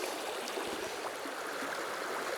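A brook flows steadily nearby, a constant bright rush and trickle of water with no other sounds.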